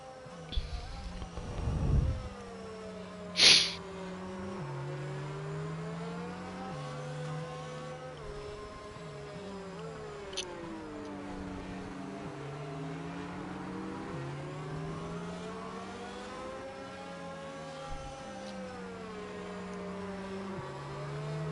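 Race cars circle a wet Singapore track behind a safety car, a steady engine drone with rising and falling pitch sweeps as cars pass, under a faint background hum.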